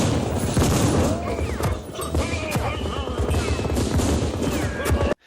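Film gunfire as FBI agents ambush and open fire on Jason Voorhees in Jason Goes to Hell: The Final Friday, a dense, sustained fusillade of shots and impacts that runs loud and continuous for about five seconds before cutting off abruptly.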